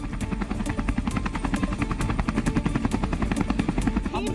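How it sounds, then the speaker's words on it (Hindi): Apache helicopters fly past in formation during an air display, their steady rotor chop and turbine whine loud and continuous throughout, with rhythmic blade thumps close overhead. "इसके बाद अपाचे हेलीकॉप्टर ने अजय फॉर्मेशन में उड़ान भरी।"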